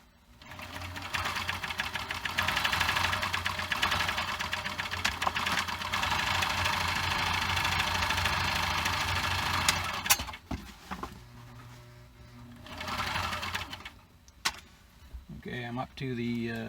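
A sewing machine stitches fabric for a Viking hood, with a loud, steady, fast mechanical whir for about ten seconds. It then stops and starts in shorter bursts with handling noises, and a person talks briefly near the end.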